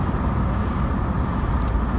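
A 1986 Vauxhall Cavalier GLSi (Opel Ascona C) driving in rush-hour commuter traffic, heard from inside as a steady low engine and road rumble with no voices.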